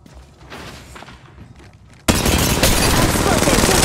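Heavy gunfire in the mobile shooter Apex Legends Mobile bursts in loud and sustained after a quieter stretch of softer game sounds and scattered shots, continuing as a dense, near barrage to the end.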